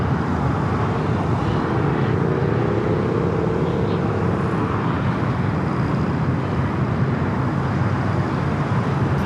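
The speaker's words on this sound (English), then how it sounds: "There we got that Air France A350-900" An Air France Airbus A350-900 arriving at LAX sounds as a constant far-off jet rumble under steady airport and road noise, with a faint rising whine partway through.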